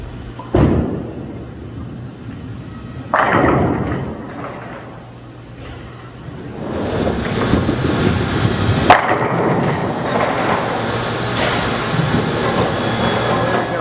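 A bowling ball, a Swag Silver Bell, rolls heavily down an alley lane and drives through the pocket for a strike; a loud rumbling roll is punctuated by sharp crashing impacts against the hum of the bowling alley.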